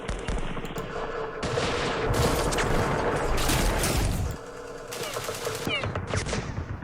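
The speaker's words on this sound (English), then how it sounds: "Sniper. Machine gun." Machine gun fire in the Yemen-set wargame Campaign Series Middle East, continuous rattling bursts that swell, cut away abruptly, then resume with mechanical clatter and no talking.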